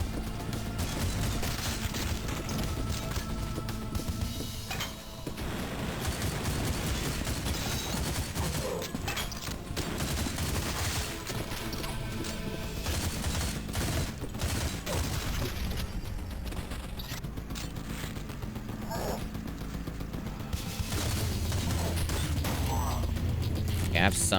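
Dense, continuous gunfire and mechanical clatter from a retro first-person shooter, with shotgun blasts mixed into a busy, loud battle soundtrack running throughout.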